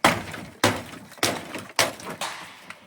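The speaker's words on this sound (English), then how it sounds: "Look at the way it's just smashing its way through, ripping its way through, taking this thing apart." A Stanley FatMax Fubar 2 heavy-duty pry bar smashes apart a wooden shed, four loud sharp crashing impacts spaced roughly half a second apart, each with splintering debris and no talk.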